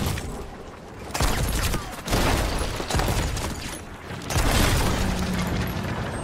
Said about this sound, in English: Your cannons are insane.